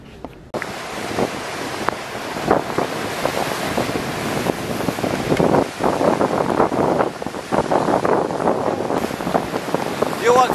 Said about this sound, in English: As you can see, my background, ocean waves.